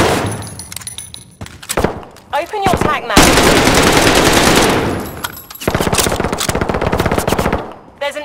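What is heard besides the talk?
gunfire in a shooter video game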